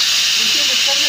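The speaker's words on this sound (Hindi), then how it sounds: "इसे 2 सीटी आने का इंतज़ार करेंगे" A pressure cooker cooking red lentil dal lets out a loud, steady, high steam whistle that fills the whole moment without a break.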